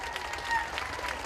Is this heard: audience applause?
yes